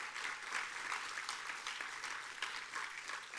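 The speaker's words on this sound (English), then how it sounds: "let's give the families a round of applause today" A convocation audience at an honours day ceremony in the Bahamas applauds the families with steady, dense clapping that fills the hall evenly from start to finish, with no voices rising above it.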